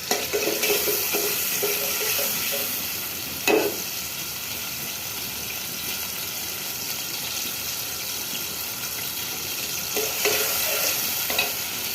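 Ginger and garlic fry in a pan for a bitter gourd dish. A steady close sizzle holds throughout, broken by a couple of brief stirring scrapes near the start and end.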